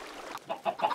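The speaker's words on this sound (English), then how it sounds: "you get a lot of chickens in here, they'll be laying eggs" Short burst of game chickens in an automatic egg farm, a few soft clucks in quick succession toward the end after a quiet start.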